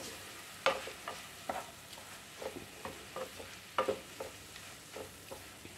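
Spice powders, including coriander powder, are sautéed in a pan for a vegetable kuruma, a soft low sizzle broken by quiet scraping stirs at irregular intervals, with no talking.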